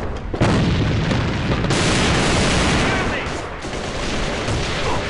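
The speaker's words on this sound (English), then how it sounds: "Grenade straight ahead." A loud grenade explosion in the video game Alliance of Valiant Arms, a close boom with a sharp onset and a second blast a little later, followed by rumbling debris and ongoing battle noise.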